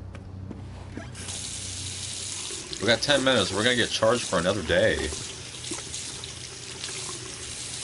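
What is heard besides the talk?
water tap running in video game Twin Mirror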